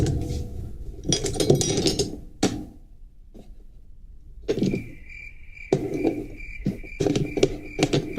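A crickets-chirping sound effect pulses in bursts of high, steady trilling, each cut off by gaps of quiet and broken by clattering noise, close and fairly loud.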